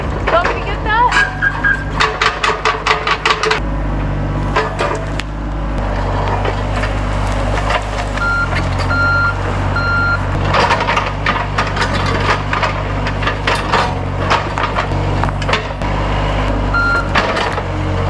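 A tracked excavator works on a rough cabin building site with its engine droning loud and steady throughout, repeated reversing beeps pulsing over it, and knocks and clatters from the machine.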